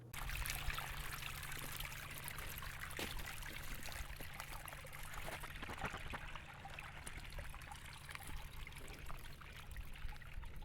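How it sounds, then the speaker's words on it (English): Water runs steadily through a backyard water feature in the Spokane, Washington area, a constant close trickle and stream with light splashes and no voices. "Here's my favorite water feature I've built."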